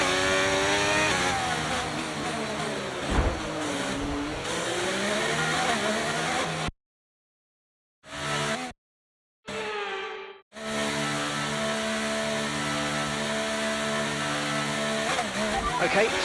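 An F1 23 race car pulls away from a pit stop, its engine loud and close as it revs up through rising gear pitches, with a brief cut to silence midway before the high engine note returns and holds steady.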